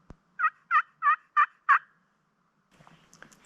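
A wild turkey near its roost in spring woods near Bend, Oregon gobbles in five quick, rhythmic bursts at moderate distance, followed by faint rustling.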